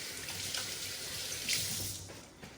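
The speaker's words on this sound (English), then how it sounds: "wash my hands" Tap water running steadily into a kitchen sink during hand washing while cooking, a continuous close hiss with slight splashing changes and no talk.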